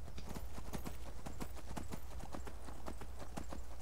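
Horse hooves gallop in the video game Skyrim, a fast, steady clip-clop rhythm of repeated hoofbeats running throughout over a low rumbling background.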